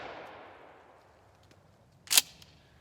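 A single sharp blast from a Remington Tac-14 firing birdshot stands out as one distant bang over a quiet outdoor background, after a fading earlier rumble.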